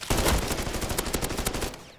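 An M14 battle rifle fires on full auto in Modern Warfare Zombies, one steady rapid burst lasting about two seconds. The burst is loud and close and stands alone with no talk.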